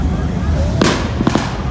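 Several sharp gunshot-like bangs ring out on a city street, a single loud crack followed moments later by a tight cluster of two or three more, all over a steady outdoor background hum.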